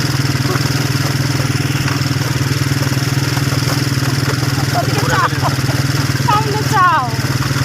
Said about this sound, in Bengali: এবার আমরা একটা বাইক রাইড দেব।